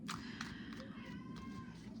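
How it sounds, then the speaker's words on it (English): A pet cat meows indoors, giving a few short, fairly loud calls spaced across two seconds over a steady low room hum. "And now he's meowing."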